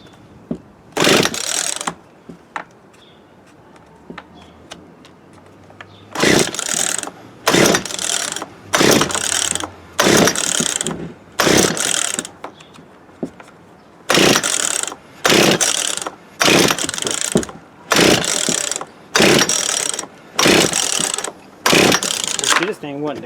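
A Poulan P3341 chainsaw is pull-started over and over, each yank producing a loud, close, ratcheting crank burst of about a second, about a dozen pulls in a fairly steady rhythm without the engine catching.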